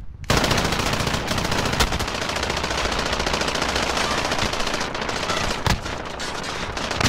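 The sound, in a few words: gunfire from a video game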